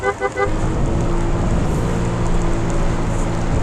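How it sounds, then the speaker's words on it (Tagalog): Heavy rain roaring during a long solo motorcycle ride, a dense, loud, continuous wash with wind and engine rumble underneath, a few brief tones at the start. "Ay grabe na ulan naman."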